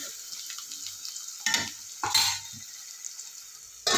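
Onions and spices being stirred in a pan for a drumstick tomato curry, a quiet background hiss broken by a few brief, louder scrapes and rattles of a spoon against the pan.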